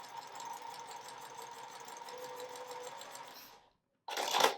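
Sewing machine stitching corner to corner across fabric quilt squares, a steady close rhythmic needle whir that stops briefly near the end before a short louder burst.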